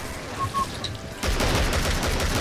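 Gunfire in the video game Killing Floor, a sudden dense burst of rapid automatic shots that cuts in partway and keeps going loud and continuous to the end.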